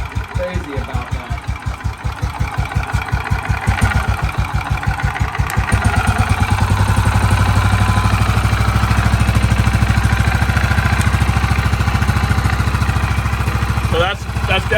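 A cold motorcycle engine idles close by with a steady, rapid thumping pulse that grows louder and fuller partway through, with people talking around it.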